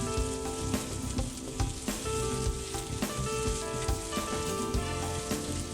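Chicken pieces frying in a pan, a steady, loud, close sizzle with crackling spatters and occasional stirring knocks throughout, no voices.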